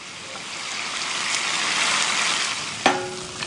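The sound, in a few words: gyoza sizzling in pan with cornflour water and sesame oil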